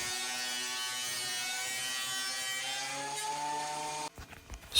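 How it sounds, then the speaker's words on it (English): A wood planer hums with a steady, high-pitched mechanical whine while planing a walnut cutting board, its pitch shifting slightly before it cuts off abruptly into quieter clunking. "we're going to set up the planer, get this dialed into the right height"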